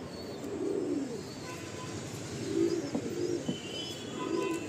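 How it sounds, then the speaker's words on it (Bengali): A male loft pigeon coos in repeated low, rolling phrases close by, several throaty bursts spaced through a steady background hum. "এটা একটা নর পায়রা, মেল পায়রা"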